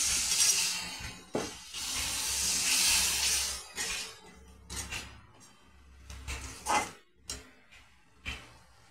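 A little water is splashed into masala that has been fried until the oil separates, for stuffed potol dorma. It sets off a loud, close hissing burst of steam for about three seconds, then quieter intermittent sputters and clatters.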